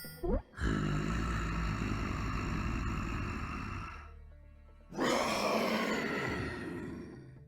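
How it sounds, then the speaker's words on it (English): A T-Rex in the video game UnMetal lets out a loud, harsh roar right after a short sharp onset, dies away near the four-second mark, then roars again at full strength after a brief gap. "Damn T-Rexes."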